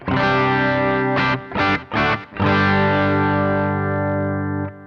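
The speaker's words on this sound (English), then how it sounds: "This is literally just the sound of the guitar through my pedal board." Electric guitar played through a pedal board with a Sonicake Warped Dimension pedal: sustained distorted chords with chorus, light reverb and delay, broken by a few short choppy strums before ringing out again.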